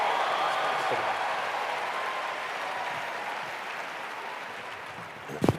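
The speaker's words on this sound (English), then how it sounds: "Give them a round of applause." A seminar audience in Charlotte applauds, a dense, even patter of many hands that starts strong and slowly tapers, ending with a few louder knocks close by.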